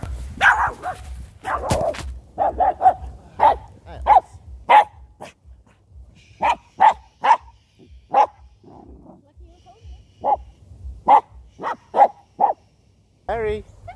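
A dog barks out on a walk, sharp, loud barks arriving in irregular bursts and clusters, some close together and some spaced apart, with faint background noise between them.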